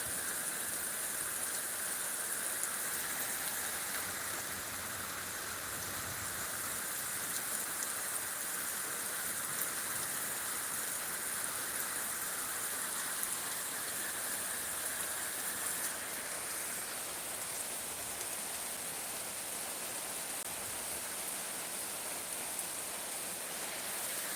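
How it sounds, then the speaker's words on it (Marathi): Heavy monsoon rain pours down steadily over farmland in Bedag village, Miraj taluka, Sangli district, a dense unbroken hiss of drops on surfaces that holds constant throughout without any voices. "जबरदस्त पाऊस पडत आहे"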